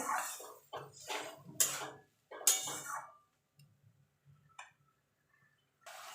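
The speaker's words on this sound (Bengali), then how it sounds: "মশলাটাকে ভালো করে কষিয়ে নেব।" Spice paste for a potato mutton curry stir-fried in a pan: a run of bright scraping, clinking bursts over the first three seconds, then only faint, scattered stirring before one last scrape at the end.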